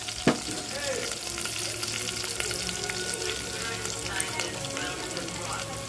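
Curry leaves and masala fry in a pan with a bright, steady sizzle and crackle, close up, with a few faint clinks and a brief knock near the start.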